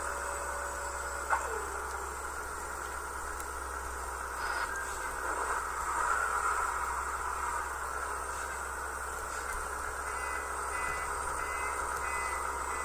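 Truck reversing beeps in the Rigs of Rods driving simulator, a steady electronic warning tone repeating over a constant hiss and engine drone, moderately loud and continuous throughout with no talking.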